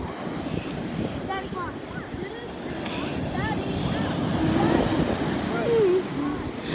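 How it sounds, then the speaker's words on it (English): Large ocean waves surging up a beach at night, a steady loud roar of surf with wind buffeting the microphone and rising swells toward the end; faint voices and chirps sit in the background. "the waves come so high"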